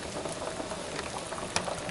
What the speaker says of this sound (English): Okay, and she's boiling.